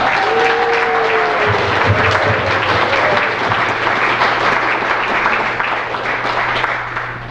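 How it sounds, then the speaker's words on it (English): Applause from an audience at a fourth-grade school assembly, sustained and fairly loud, with a few cheers or whoops early on and a low steady hum running underneath as the clapping tapers slightly. "One more round of applause"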